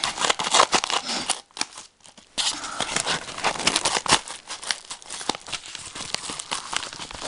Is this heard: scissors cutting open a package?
yes